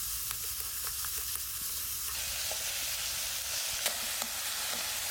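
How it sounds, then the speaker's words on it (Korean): Tricolour bell peppers stir-fry in a little oil in a pan, a steady soft sizzle running throughout with a few faint scrapes and clicks, no talking. "기름을 약간 두르고 3가지 색깔 피망을 다 한꺼번에 볶을게요"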